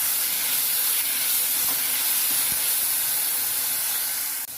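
A ground paste of ginger, garlic, green chili and fennel sautés in a pan, giving a loud, continuous spraying hiss that stays level and then dips briefly near the end.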